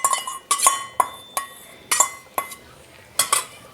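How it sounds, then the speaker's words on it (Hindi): A metal spoon clinks and scrapes against a pot roughly every half second while masala is stirred and fried with yogurt for beef haleem; the strikes are close, crisp and distinct. "अब मसाला भूनूंगी मैं"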